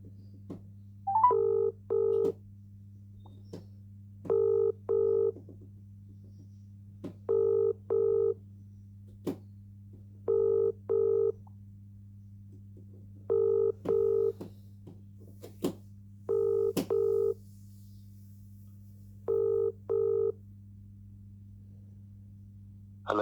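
A phone line dialing out to a law firm: short paired touch-tone beeps repeat in a steady rhythm over a constant low hum, clear and alone with no talking.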